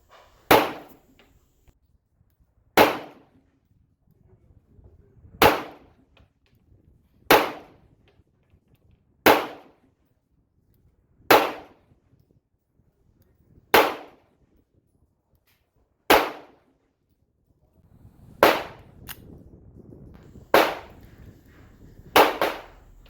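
Eleven single pistol shots from an IWI Jericho 941 fired at a steady, unhurried pace, each a sharp close crack with a short decaying tail, with faint rustling between the later shots.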